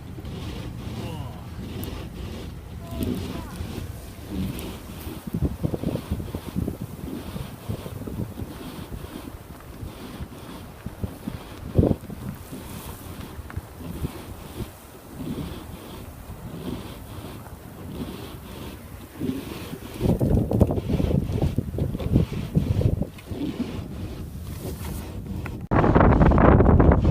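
Strong blizzard wind roars steadily in an April Minnesota snowstorm, blowing snow off high drifts; the gusts are rough and buffet the microphone, rising to a louder blast near the end.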